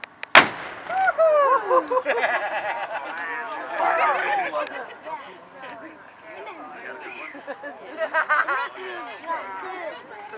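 A Civil War 12-pounder cannon fires once near the start with a single sharp, loud boom, followed by the chatter of a crowd and people talking nearby.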